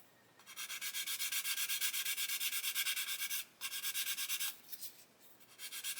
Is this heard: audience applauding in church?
no